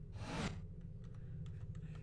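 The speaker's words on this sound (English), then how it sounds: "Typing sounds intensify." A mechanical computer keyboard gives a short cluster of key clicks after a brief whooshing burst, a few light taps spaced over a second or two, close and quiet.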